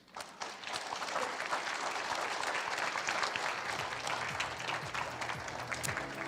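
An audience at a centennial celebration gives a round of applause, steady crowd clapping at moderate volume with scattered sharper claps, heard from a little distance.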